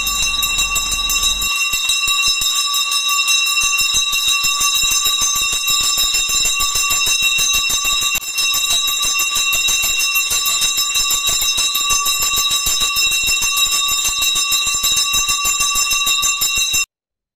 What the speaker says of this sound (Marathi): हा घंटानाद किती प्रसन्न लहरी निर्माण करतो